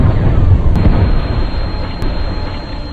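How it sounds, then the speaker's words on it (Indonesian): A bomb detonates in a war film, a heavy rumbling blast that stays loud and dense for the whole stretch, with low booming energy slowly easing off. "bom pun diledakkan."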